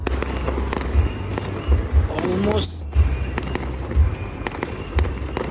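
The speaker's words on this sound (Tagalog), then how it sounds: "Hindi pa rin natapos yung fireworks ng Bilyana" Fireworks display at Bilyana keeps going, with repeated sharp booms and crackling bursts spaced about a second apart, loud and fairly close, and a shower of whistling crackle in the middle, while a person speaks briefly.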